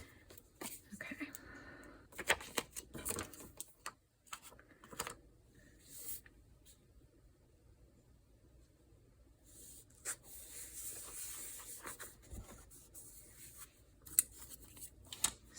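Quiet snipping and rustling from scissors cutting out paper pie charts for a journal, soft and intermittent, heard close up with occasional faint handling sounds and some talking.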